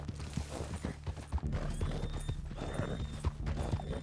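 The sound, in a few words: horse hooves and whinny in the video game Red Dead Redemption 2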